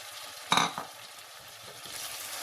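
Mutton pieces and freshly added tomatoes frying in a pan give a continuous hiss, opened by a brief clatter of stirring, then settling into a low, even sizzle with no voices.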